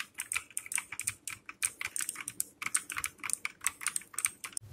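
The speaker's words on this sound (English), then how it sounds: "it feels like the switch is right between the blue Outemu switch and the red Outemu switch in terms of feedback" Rapid, steady typing on a Coconut K12 Orion TKL mechanical keyboard with Outemu switches, dense crisp key clicks close up and alone, with no talking.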